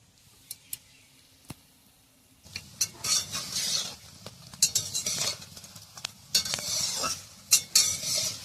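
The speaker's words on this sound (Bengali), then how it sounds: "আমিও আস্তে আস্তে জাল দিয়ে ভাজছি।" Food frying slowly over low heat in a pan. Soft sizzling builds after a quiet start and is broken up by sharp clinks and scrapes of a spatula against the metal, all heard close by with no voices.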